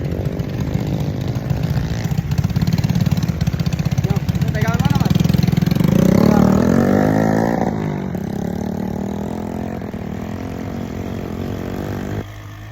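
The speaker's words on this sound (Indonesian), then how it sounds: "Naik motor." A loud, close motorcycle engine buzzes and revs steadily on a mountain route, rising in pitch for a moment before settling, while a person talks briefly over it.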